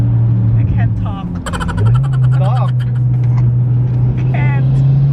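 Steady low engine drone from a 330 hp Mitsubishi Evo cruising along, its pitch stepping up once as it accelerates, heard close inside the cabin under people talking and laughing.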